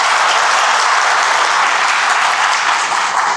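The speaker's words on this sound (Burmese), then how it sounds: "သဘောကျလက်ခုပ်တွေတီးအောင်" A lecture audience at a young business millionaire talk bursts into loud, dense, sustained applause, many hands clapping at once and filling the room evenly throughout.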